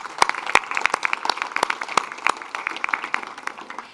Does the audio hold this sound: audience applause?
yes